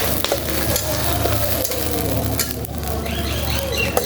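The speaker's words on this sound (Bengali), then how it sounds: "এটা এখন ভাজা হবে।" Ginger garlic paste frying in a pan, a close, steady sizzle with occasional stirring scrapes and clicks over a low background hum, with no one talking.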